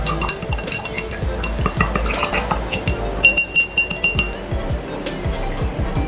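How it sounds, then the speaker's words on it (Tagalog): Oil and water stirred in a glass during a lab experiment, with rapid, repeated clinks of the stirrer against the glass, loud and close, ending in a brief burst of sharper taps. "And stir it."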